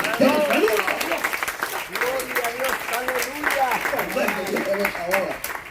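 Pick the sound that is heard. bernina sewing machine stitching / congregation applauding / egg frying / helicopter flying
congregation applauding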